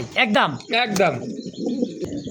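King pigeons at a pigeon farm make low, soft cooing beneath and after a brief spoken word from a nearby voice, and the coos carry on quietly to the end.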